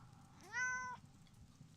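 A cat gives one short, rising meow at moderate distance, fairly quiet against a soft background.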